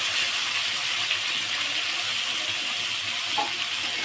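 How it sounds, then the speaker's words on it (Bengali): Potatoes and peas sizzle in hot oil in a pan, a steady close hiss with a faint crackle running under it the whole time. "আলু আর শুটিটা একটু ভালো করে ভেজে নিয়েছি"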